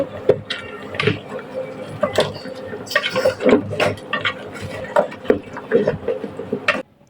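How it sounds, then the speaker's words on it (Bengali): Beef nihari (cow trotter paya stew) being stirred in a pot with chopped coriander leaves, giving repeated scraping and clinking strikes of a utensil against the pot at an uneven rhythm, close and fairly loud, with faint bubbling. "এখন আমি একটু ভালো মতো করে নেড়ে চেড়ে নিচ্ছি"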